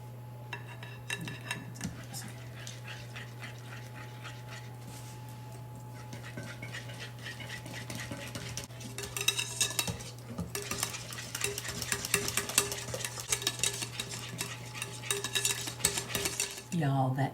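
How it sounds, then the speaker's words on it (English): Key lime pie filling with citrus zest being whisked by hand in a bowl, a steady run of rapid metallic stirring and clinking that grows louder and busier in the second half, over a constant low hum with no talking. "we're gonna whisk this all together"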